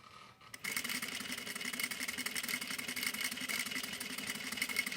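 A sewing machine stitching parallel lines starts after a short pause and then hums steadily and evenly, close and continuous, with no speech.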